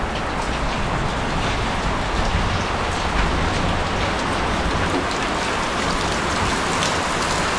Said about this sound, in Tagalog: Sa lakas ng ulan, pumasok ang tubig.